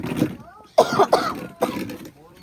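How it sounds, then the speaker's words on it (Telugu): A person coughs several times in a quick cluster, close and loud, with throat-clearing and breathy voice sounds around the coughs. "దగ్గు వస్తుంది బాగా."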